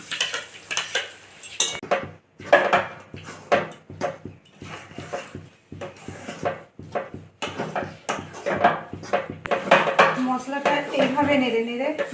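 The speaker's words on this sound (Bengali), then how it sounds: "এটা দিয়ে আমি ভালো করে নেড়ে মশলাটা তৈরি করে নিচ্ছি" Ground lentil paste stirred in hot mustard oil for dhokar dalna, with a spoon clattering and scraping against the pot in uneven bursts over a faint sizzle, close by and with a voice speaking at times.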